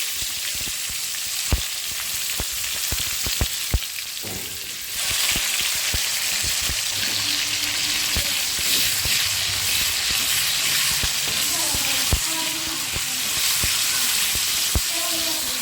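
Bay leaves and split dried red chilies fry in hot oil in a pan, giving a steady close sizzle that grows louder and fuller partway through, with occasional sharp pops and scraping stirs.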